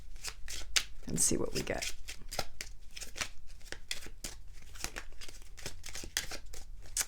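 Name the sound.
shuffling a deck of chakra cards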